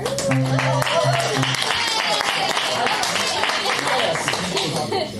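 An improv comedy audience at a theater breaks into steady, enthusiastic applause with some scattered cheering and laughter, filling the room for several seconds.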